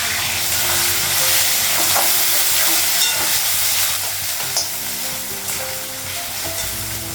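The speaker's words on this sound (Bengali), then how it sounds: "একটু ভেজে নিলে তারপর তুলতে পারবো" Flat beans and potatoes fry in a pan with a steady sizzle, and occasional stirring scrapes sound over it. The sound is fairly loud and continuous, with no talking.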